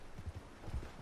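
Soft, brief clip-clop of a horse's hooves in Red Dead Online, a few quiet hoof strikes in quick succession.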